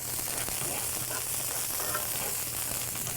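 Onions fry in olive oil in a pan, giving a steady, even sizzle that runs unbroken and moderately loud throughout, with no talking.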